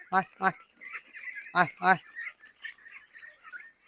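Ducks quack close by in short paired calls, with softer, higher peeping calls trailing between them.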